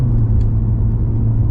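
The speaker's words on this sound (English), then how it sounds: "It's the first gear launch this time." A BMW M140i launches in first gear with a loud, steady, low engine rumble heard from inside the cabin.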